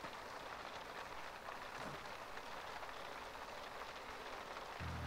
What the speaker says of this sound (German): Raus in den Regen,